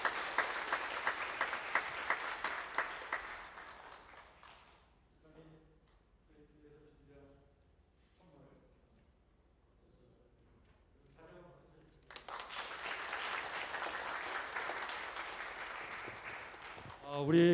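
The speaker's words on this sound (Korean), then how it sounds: "여러분들 박수로 한번 격려해 주시길 바랍니다" A church congregation at Sunday service applauds warmly for several seconds, breaks off while someone speaks briefly, then bursts into applause again.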